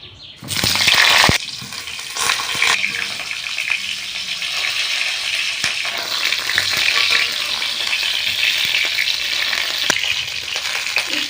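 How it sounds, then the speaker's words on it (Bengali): Pointed gourd pieces frying in hot oil in a kadai make a loud, continuous sizzle that flares sharply at the start, then settles into an even crackling hiss with no talking. "পটলগুলো ভেজে নেবো তেলে"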